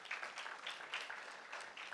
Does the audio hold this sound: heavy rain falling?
no